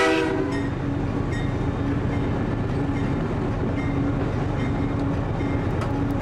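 Freight train heard from inside the locomotive cab near Hastings, Minnesota, a loud continuous engine drone and rolling rumble with a sustained horn blast at the start, no voices.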